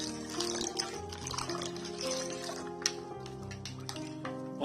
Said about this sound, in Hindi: I'll add some more water.